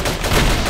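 Gunfire in the video game Rush Team, a short, loud burst of dense shots with no pause between them.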